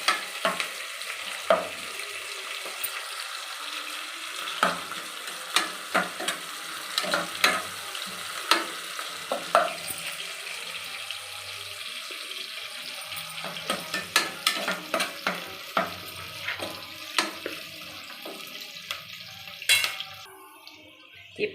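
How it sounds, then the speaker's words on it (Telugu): Onions fried in a pan until golden for a mutton masala curry, a steady close sizzle with scattered clinks and scrapes of stirring throughout, no talk. "ఆనియన్ కొంచెం గోల్డెన్ ఫ్రై అయ్యేంత వరకు ఫ్రై చేసుకోవాలండి"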